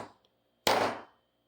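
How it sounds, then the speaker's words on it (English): Hammer striking a copper disc into a wooden dapping block, a single sharp impact followed by a brief ringing decay, heard alone and close. "we're going to hammer"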